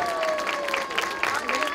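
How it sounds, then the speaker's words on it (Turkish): A children's audience at a magic show claps briefly, a short burst of applause mixed with cheering voices and a higher-pitched voice speaking over it. "Kocaman alkışlar arkadaşlarımıza geliyor."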